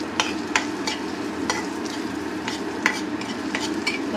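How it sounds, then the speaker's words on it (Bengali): Onions frying in an Indian home kitchen, stirred steadily in a pan: a continuous mid-level sizzle with repeated scraping strokes of the spoon, no voices. "পেঁয়াজটা ভাজা হয়ে গেছে"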